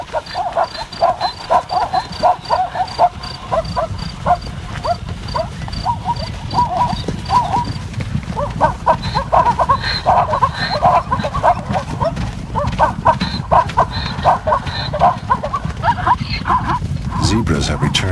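Zebras run on migration while a hyena clan chases down the foals, with drumming hooves and scattered animal calls and yelps. A narrator speaks over the sounds throughout.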